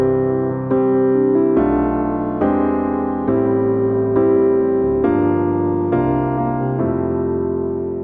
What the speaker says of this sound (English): And so with these gospel chords, it'll sound like this.